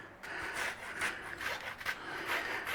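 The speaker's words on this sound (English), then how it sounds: "We're going to grate the ginger." Fresh ginger grated in quick rhythmic rasping strokes, about five or six scraping passes at close range.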